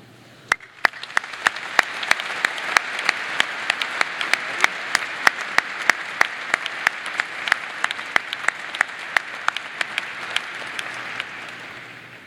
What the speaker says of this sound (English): please join me in one more round of applause for Dr. Shirley Bryce Heath.